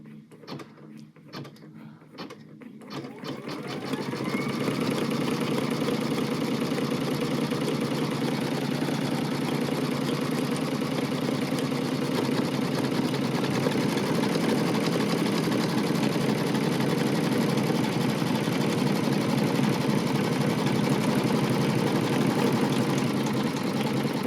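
A home embroidery machine stitches an in-the-hoop heart bag design, starting after a few seconds of quiet handling noises and then running as a steady, close, continuous whirring buzz to the end.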